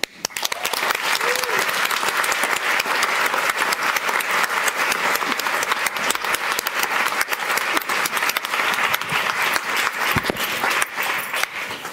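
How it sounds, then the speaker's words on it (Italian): A large audience at the Forum on European Culture 2018 applauds author Alessandro Baricco, producing dense, steady clapping that fills the hall for the full twelve seconds at even loudness. "I would really like to give Alessandro Barrico a very warm applause"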